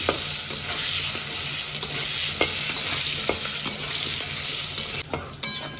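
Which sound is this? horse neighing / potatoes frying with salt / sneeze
potatoes frying with salt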